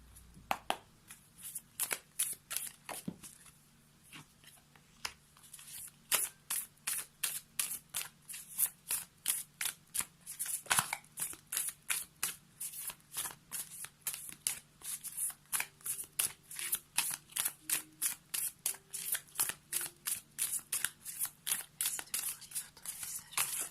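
Tarot cards being shuffled by hand: a long run of close, crisp riffling flicks in quick, fairly regular rhythm, with faint murmured voice traces in places.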